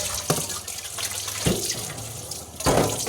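Water running from a tap into a plastic basin, a continuous splashing rush with a few louder gurgling bursts as the stream shifts, steady for about three seconds with no one speaking.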